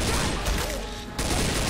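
Continuous, dense gunfire in Left 4 Dead 2 versus mode while survivors fight a Tank, loud and close with a brief dip in the middle before the barrage resumes full force.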